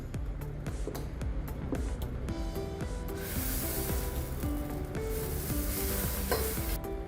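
Moong dal dosa batter being stirred in a home kitchen, a steady scraping and swishing that runs throughout at moderate volume over a faint sizzle from a hot tava, with no talking.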